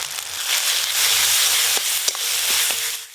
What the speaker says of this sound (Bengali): যতক্ষণ না আদা রসুনের কাঁচা গন্ধ যায় ততক্ষণ ধরে আমি কষে নেব